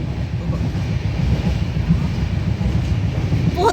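Onboard a moving train, a loud continuous rumble of wheels and carriage with a rhythmic low clatter, steady throughout, with faint background voices.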